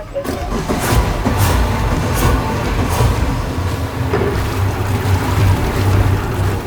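A boat powered by four new Yamaha 300 outboard engines running steadily, a loud continuous low rumble with water rush and wind noise throughout.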